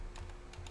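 Soft, muted keystrokes on a mechanical keyboard with silent linear switches, about four quiet taps with no click, heard up close in a hushed room.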